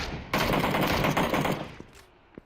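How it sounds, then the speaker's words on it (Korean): Gunfire in a shooter video game crackles in a dense automatic burst lasting about a second, then trails off into a few faint scattered shots, loud and with no talking. "저 친구가 아군 리누스 친구를 쏘고 있더라고요."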